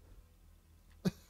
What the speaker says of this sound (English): I laughed so hard I made myself cough there.